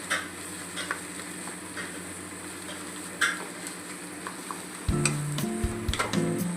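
Boiled potato sabzi is stirred in a pan, a soft steady sizzle under scattered spoon scrapes, with a louder clatter of utensil against pan near the end.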